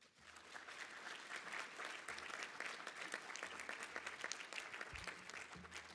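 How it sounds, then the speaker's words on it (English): A banquet audience claps steadily and densely for students being honored, many hands blending into a sustained, even wash of applause heard from a short distance. "please give these outstanding students another round of applause"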